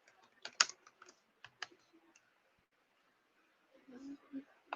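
Clicky computer keyboard typing in short bursts of keystrokes near the start, then a brief pause followed by low murmuring talk toward the end.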